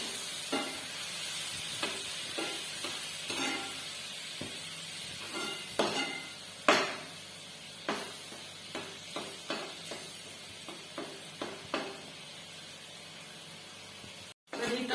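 Dry spices frying in oil for a Maharashtrian brinjal curry, a steady close sizzle and hiss punctuated by repeated scraping knocks of a spoon stirring against the pan.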